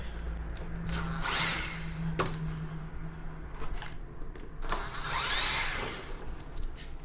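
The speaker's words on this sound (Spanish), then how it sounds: "vamos a quitar tres tornillos, que está uno aquí, otro acá y otro acá, para poder sacar la unidad" A power drill backs screws out of a car headlight unit during a xenon headlight install, in two short whirring bursts about four seconds apart, with quieter handling noises between them.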